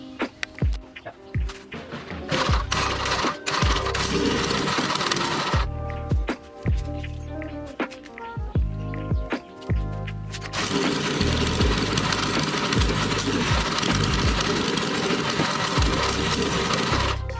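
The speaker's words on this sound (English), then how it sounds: "it is running a little bit better, but it's still running pretty rough" A Motovox mini bike's small gas engine runs rough and uneven at close range, with a loud steady mechanical rattle and knocking that falters and surges before settling into a harsher, fuller drone.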